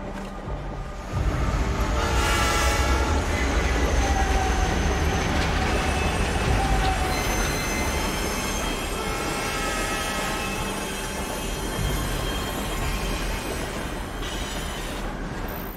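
A train rumbling past in the video game Sniper Ghost Warrior 2, heavy wheel clatter and squealing metal building in loudly after a moment and holding as a long, close roar.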